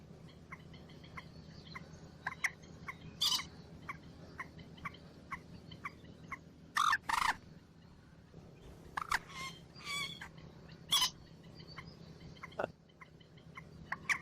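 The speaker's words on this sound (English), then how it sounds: "Moorhen bird sound." Moorhen calls from a rail related to coots: a steady run of short, evenly spaced clucking notes with several louder, sharper bursts breaking through, heard moderately close over a low background hum.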